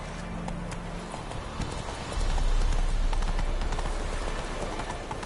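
Roach, a horse in The Witcher 3 video game, trots along with a steady clip-clop of hooves under outdoor ambience. The hoofbeats grow louder and quicken partway through.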